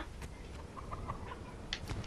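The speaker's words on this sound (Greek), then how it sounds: "Κότα." Chicken clucking in the Fortnite video game, a few short clucks heard over steady game ambience and background noise.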